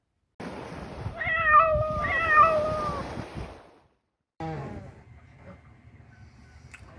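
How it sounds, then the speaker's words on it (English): A cat aboard a sailing boat gives two long, drawn-out meows close by, then after a brief silence a shorter, quieter meow over faint background noise. "the cat's investigating"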